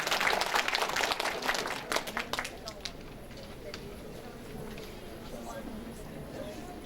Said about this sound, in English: Can you please have a big round of applause for it?